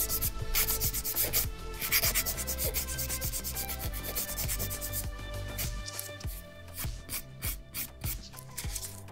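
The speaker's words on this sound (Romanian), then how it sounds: "acum o să fac o ușoară pilire de formă cu pila normală" A cardboard nail file shapes a fingernail with a steady, close, raspy back-and-forth rubbing, repeated quick strokes that speed up and grow sharper toward the end.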